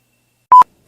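A phone notification beep: a single short, clean electronic tone, loud and isolated against silence.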